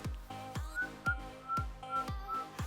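A person whistles a short, bouncy tune of repeated notes, joined by regular low thumping beats like a drum.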